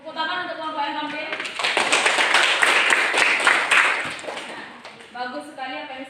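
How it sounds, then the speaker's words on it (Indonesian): Classroom applause for a presenting group, a burst of many hands clapping that swells and fades over a few seconds, with a voice talking before and after it. "Tepuk tangan untuk kelompok yang tampil."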